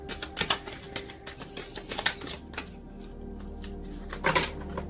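Tarot cards being shuffled close by, a quick, irregular run of soft flicks and riffling clicks with short pauses, fairly quiet, with no talking.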